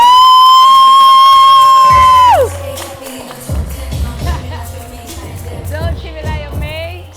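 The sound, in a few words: studio audience applause and cheering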